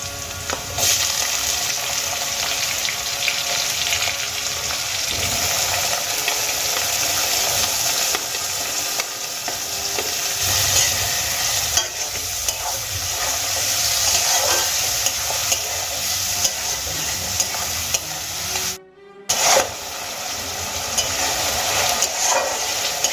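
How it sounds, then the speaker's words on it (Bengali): Chopped onions with lightly browned garlic fry and hiss loudly in a pan for a Bengali-style methi dal, with continuous stirring scrapes and a brief drop to silence near the end. "এখানে পেঁয়াজ আমি দু থেকে তিন মিনিট খুব ভালো করে ভেজে নিয়েছি"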